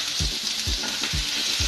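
Chopped ginger and green chili sizzle in hot oil in a pan, a steady loud frying hiss with rhythmic stirring scrapes repeating about twice a second, close up with no talking.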